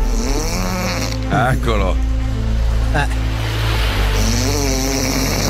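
Loud, rasping snore-like breathing from an inhuman creature in a game, a heavy drawn-out rattle that swells and fades in long waves, with a single short word spoken over it.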